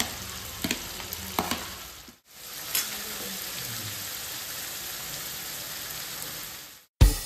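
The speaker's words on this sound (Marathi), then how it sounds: "आपला कांदा मस्तपैकी तेलात आता फ्राय झालाय बरं" Chopped onion frying in plenty of oil for pav bhaji, a steady close sizzle like light rain, briefly cutting out twice, with a few soft stirring knocks early on.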